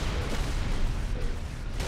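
Dense, continuous gunfire and grenade blasts from the Halo Reach video game form a loud, steady roar of combat throughout.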